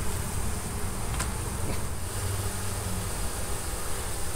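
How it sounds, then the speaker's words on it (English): Honeybees drone loudly and continuously around their queen during removal of a hive from an old house, a close, steady buzzing swarm with no pauses. "See the bees going to her?"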